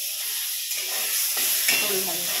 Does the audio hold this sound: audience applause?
no